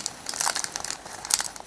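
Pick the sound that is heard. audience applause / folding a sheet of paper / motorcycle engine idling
folding a sheet of paper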